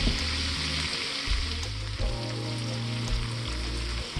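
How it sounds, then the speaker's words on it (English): Onions sautéing in fat in a pan for a keto Spanish tortilla, giving a steady close hiss and sizzle with faint crackles that runs unbroken for the whole stretch, with no talking over it. "we're going to let those saute for a minute, soak up some more of that good fat"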